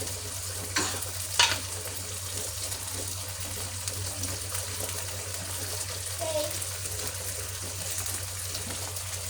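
Sardines sauté in a pan with a steady, close sizzle and faint hiss, with a few utensil clinks early on.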